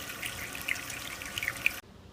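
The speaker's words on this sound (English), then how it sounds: "just rinse your salmon fillets off with some cool running water" Cool tap water runs and splashes as salmon fillets are rinsed under it, a soft steady hiss with small spatters that stops abruptly near the end.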